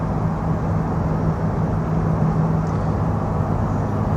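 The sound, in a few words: 1998 Dodge Caravan driving on the highway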